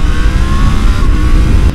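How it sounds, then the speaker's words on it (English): A Triumph Tiger 900 GT Pro with a T-plane crank three-cylinder engine revs steadily and loudly up close, a dense guttural drone holding for under two seconds with no one talking. "the noise from that T-Pain crank engine is addictive as well"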